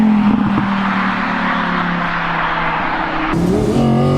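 An Audi R8 sports car with quattro drive holds a loud, close engine drone, then its pitch shifts sharply near the end as the revs change.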